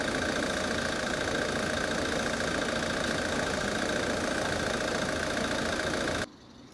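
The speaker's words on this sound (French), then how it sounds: "Vous pouvez me dire pourquoi vous laissez tourner le moteur?" A car engine idles at a street corner, a steady close mid-pitched rumble with faint knocking that runs for about six seconds before cutting off abruptly.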